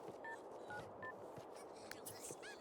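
Phone dialing in The Sims 3 video game: a few short, evenly spaced electronic keypad tones, faint and low in level, under game ambience and light background voices.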